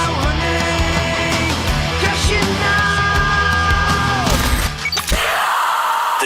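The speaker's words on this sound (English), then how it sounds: "Why are you yelling?" A man yells loudly and at length, his raw shout dense and sustained over a busy, clattering background, then cut off near the end by a brief burst of noisy hiss.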